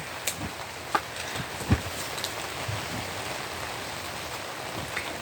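Rain falls outdoors as a steady soft hiss, with scattered individual drops tapping and pattering nearby on surfaces.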